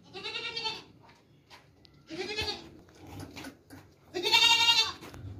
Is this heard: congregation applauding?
no